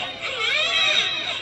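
A voice imitates a newborn baby girl crying, a sustained wailing cry held steadily for over a second at moderate loudness, with no other talk.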